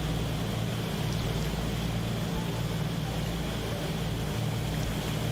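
Steady, loud drone of Pratt & Whitney Double Wasp radial engines on a DC-6 freighter in the PMDG flight simulator, a continuous low rumble that holds evenly throughout with no talk.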